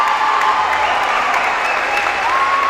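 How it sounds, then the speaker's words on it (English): Volleyball crowd on its feet in a standing ovation during a quarterfinal match, loud dense sustained applause with cheering and a few whistles, continuous and close, no talk. "the crowd giving a much deserved standing ovation"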